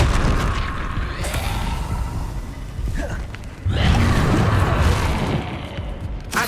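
A fire spell cast in Hogwarts Legacy gives a sustained roaring, whooshing burst that swells sharply midway and then holds loud and broad under the game's ambient sound, with no speech.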